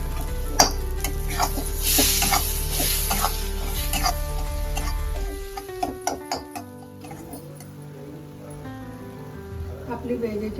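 Okra fries in a pan, a dense sizzle for the first few seconds that gives way to clattering stirring and pan knocks, with a voice heard over it.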